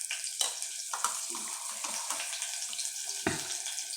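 Green chillies fry in a pan for Khandeshi-style kadhi, giving a steady hissing sizzle with light clinks and scrapes at a few points.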